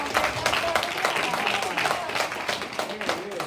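A small group claps and cheers briefly, with voices mixed into the scattered applause.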